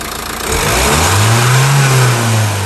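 A Renault Megane 1.5 dCi diesel with an injection system fault revs up from idle, its engine note climbing and holding loud and close for a couple of seconds, alone without talk.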